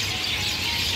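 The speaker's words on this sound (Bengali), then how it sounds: "তোমরা দেখলে তো কত পাখি ডাকছে একসাথে, মনে হয় কয়েকশো পাখি।" Hundreds of birds call together by the Ganges, a dense continuous chorus of overlapping chirps and twitters, loud and unbroken over a low background rumble.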